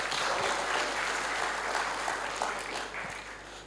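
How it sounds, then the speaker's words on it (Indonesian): An audience at a business testimonial event breaks into dense, sustained clapping that fills the room, then begins to fade toward the end. "Tepuk tangan buat mereka."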